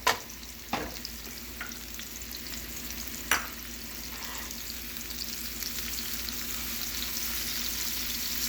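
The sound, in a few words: garlic sauteing in a pan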